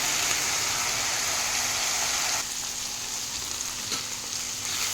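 Ivy gourd (dondakaya) sautés in a pan with a steady, close sizzle throughout, dropping to a slightly quieter fry about halfway, with no voices.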